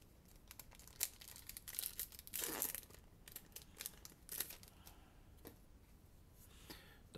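A Magic: The Gathering card pack wrapper is torn and crinkled open up close, scattered crackling foil rustles with a louder tearing burst near the middle, quiet overall.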